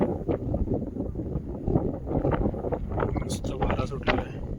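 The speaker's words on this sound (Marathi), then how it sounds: "मस्त वारा सुटलेला आहे." Strong wind buffets the microphone on a hilltop at Takmak Tok overlooking Raigad fort, a loud rumbling gusty roar that rises and falls steadily, with faint voices mixed in.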